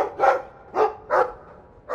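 A dog in Dragon Age 2 barks three times in a quick, uneven sequence, each bark short, close and clear against a quiet background.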